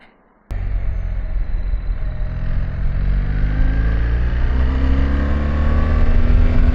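A BMW R1300 GS motorcycle engine kicks in suddenly and drones loudly while riding, its pitch climbing steadily with rising revs under wind rumble, no voices.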